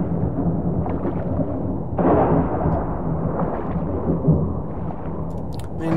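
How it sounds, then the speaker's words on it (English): Thunder from a storm in the survival video game Subsistence, heard while diving underwater, rolls as a continuous loud rumble with a sharper crack near the middle and no talk. "Man, this storm should sound like a muffle when you're underwater"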